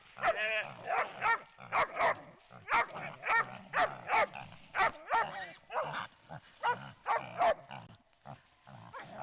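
Repeated loud, close dog barks in an uneven rhythm, several dogs overlapping, with brief pauses between bursts.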